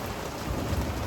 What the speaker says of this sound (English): It's definitely the most epic lightning storm I've ever seen.